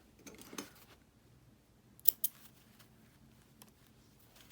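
Scissors snip off excess needle-felting wool fiber in a few quiet, crisp cuts, with a sharper pair of snips in the middle, heard close and alone.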